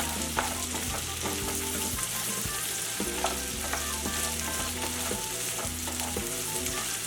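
Chopped onions sizzle and fry in a pan for Zuppa Toscana soup, a constant crackling hiss under steady background music.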